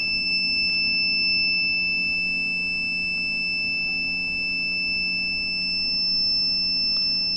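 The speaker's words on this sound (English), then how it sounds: "this alarm will be around 1 minute" A steady, continuous Arduino-driven electronic buzzer alarm holds a high piercing tone without a break, with a low hum running underneath throughout.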